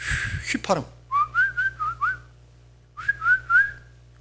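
A person whistles a short melodic phrase in several rising and falling notes, pauses briefly, then whistles a few more notes, clear and close.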